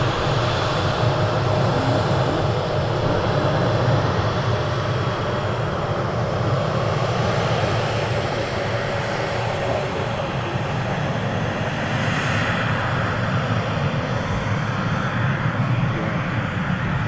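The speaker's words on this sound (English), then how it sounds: "we are live here at Manchester Airport right now" Aircraft noise at Manchester Airport: a loud, steady broadband engine roar that persists without a break across the whole stretch, close and dominant, with no talking over it.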